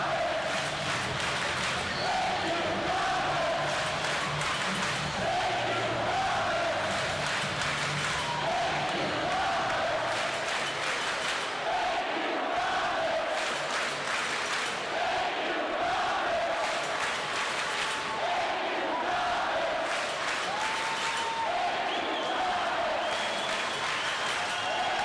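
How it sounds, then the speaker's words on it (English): A hockey arena crowd roars and applauds after the Manchester Monarchs clinch the AHL championship against the Utica Comets, a loud, unbroken wall of cheering and clapping that holds steady throughout. "And the crowd is all you need to hear right now."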